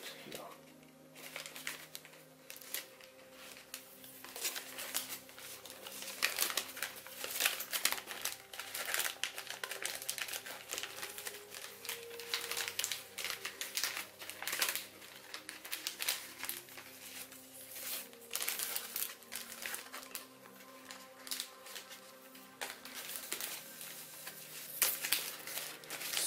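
Paper crinkles and creases steadily as an origami dragon is collapsed and valley-folded, a close, continuous rustling with sharper crackles throughout and no talk over it.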